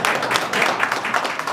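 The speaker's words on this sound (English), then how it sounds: "it will have been women to clap more than men" Audience clapping at a community gathering for a cook stove carbon project in Kisii County, a short burst of moderately loud applause with scattered individual claps standing out.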